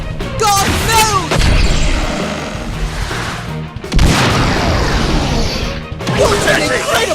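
A powerful special-move soccer shot in the Inazuma Eleven Strikers video game bursts out with loud booming crashes and whooshing impacts, layered with dramatic game effects and excited voices.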